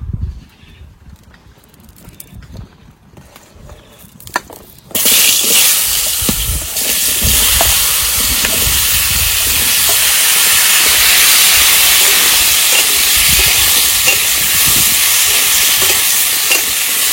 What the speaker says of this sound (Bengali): মাছ ভাজা তেলের মধ্যে এবার সবজিগুলো ভেজে নেবো।